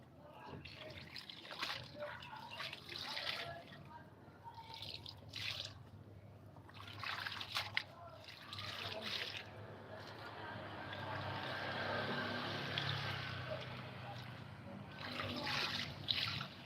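Water from washing laundry drains and trickles with splashy, gurgling flow, swelling into a steadier rush partway through, while voices speak faintly over it.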